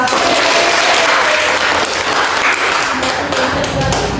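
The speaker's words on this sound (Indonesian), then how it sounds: "Oke, tepuk tangan yang meriah." Loud, dense applause from a class of students, a continuous roar of clapping hands close by with occasional thumps and a few voices underneath.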